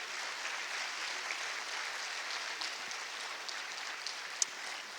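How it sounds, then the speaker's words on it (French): Audience applause at the Dakar international forum on peace and security in Africa, a steady soft patter of many hands clapping at a distance, faint and continuous for several seconds. "Applaudissements, s'il vous plaît."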